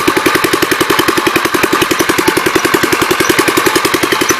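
A 1954 L tractor engine runs close and loud on a lap around a barn, a fast, even chugging of regular exhaust pulses with no talk over it.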